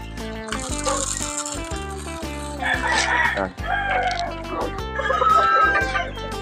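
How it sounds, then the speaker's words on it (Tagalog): Gamefowl chickens cluck and a rooster crows close by while being fed on a game farm, over a steady droning background that runs throughout. "nakapapakain na tayo dito ng mga manok"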